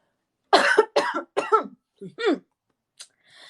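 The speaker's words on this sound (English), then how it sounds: "I keep coughing." A series of harsh coughs, four or five bursts close together, then a short pause and a couple of fainter coughs trailing off.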